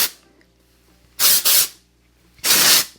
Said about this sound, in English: I'm now going to take some texture spray, put it here in my roots.